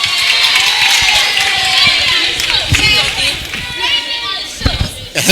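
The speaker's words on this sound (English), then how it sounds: "Please let's clap for her." Audience at a youth summit for World Contraception Day claps and cheers amid crowd chatter, a lively mix of hands and voices that swells near the end.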